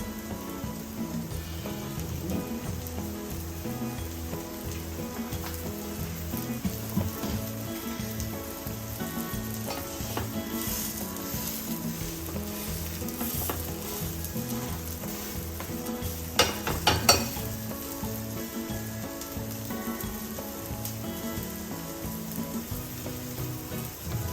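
A vegetable tomato omelette fries in oil in a pan, giving a steady, close sizzle with crackling that runs the whole time and briefly grows busier near the end; nobody speaks.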